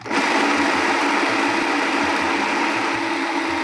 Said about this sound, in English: And you're going to put it in a food processor.